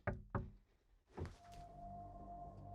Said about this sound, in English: I heard a knock.